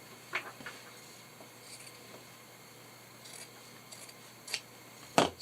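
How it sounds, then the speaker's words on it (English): Scissors cutting wool-like felt, a few sharp close snips scattered over a quiet room, with faint rubbing of the fabric between cuts. "I'm just going to kind of cut that off to a point"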